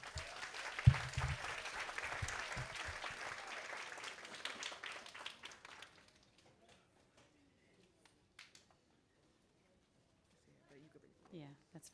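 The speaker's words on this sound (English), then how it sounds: "Give them a round of applause." A crowd at a kindergarten stepping-up ceremony claps in a burst of applause that fades out after about six seconds, leaving near silence with scattered faint sounds and brief talk.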